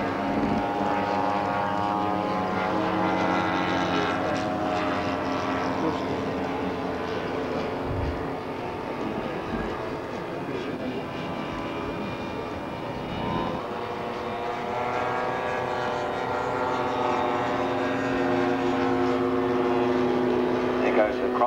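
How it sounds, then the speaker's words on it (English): Close, steady drone of a 30cc Super Tiger engine on a third-scale model aircraft, holding a continuous buzzing tone throughout with slight pitch shifts. "Super Tiger engine fitted in that one."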